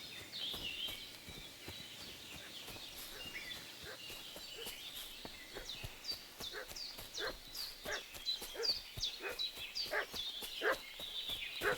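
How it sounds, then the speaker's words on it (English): Faint, distant dog barking inside the medieval village world of the video game Kingdom Come: Deliverance II, a run of short repeated barks growing busier over time, set against quiet outdoor ambience with birds. "What's that dog making such a fuss about?"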